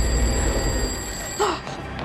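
In a horror film, a telephone rings loud and close with a bright electronic trill, then cuts off abruptly as a short voice-like sound enters near the end.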